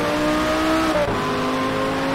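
Race car engine in the Shift 2 Unleashed racing game, heard from the cockpit view during a lap: a loud, steady high-revving drone that drops sharply at a gear shift, then climbs again.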